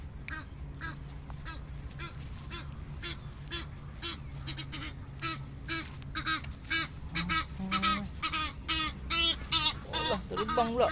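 Geese or ducks honk at the Putrajaya bird sanctuary, a flock calling repeatedly in rapid, overlapping bursts that grow louder and busier toward the end over a low outdoor hum.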